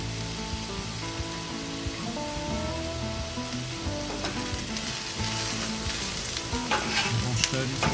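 Home-fried potatoes with black pepper and paprika stirred in a cast iron pan, a loud steady sizzle running throughout with scraping stir strokes on top and no talk.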